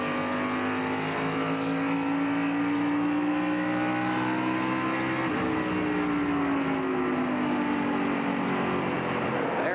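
NASCAR Busch Grand National race cars at Indianapolis Raceway Park in 1998, a loud continuous engine roar with whining tones that shift in pitch as the pack passes, dense and sustained without pause.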